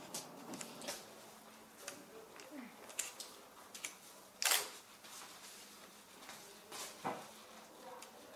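Camera shutter firing during a haircut: a few sharp clicks spread out, one louder and crisper snap among them, over a quiet room background.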